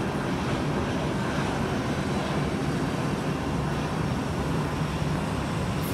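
An Airbus A319 airliner at London Heathrow produces a steady, broad engine roar at moderate distance, unbroken for the whole stretch with no voices.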